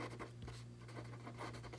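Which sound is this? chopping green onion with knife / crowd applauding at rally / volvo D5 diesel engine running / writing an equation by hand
writing an equation by hand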